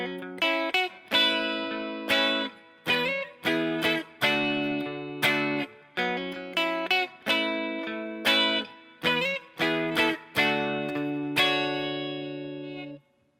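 Riff from a song played on guitar through an effects unit with chorus and distortion, plucked notes and strums repeating in a steady rhythm, close and clear with no talking.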